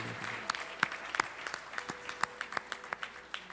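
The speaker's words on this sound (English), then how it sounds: "I'd like to give a big round of applause for the hard work." Scattered clapping from a small congregation at a Sunday puja service in a Toronto Vishnu temple, a few distinct sharp claps spaced irregularly against quiet room tone, fairly faint and sparse.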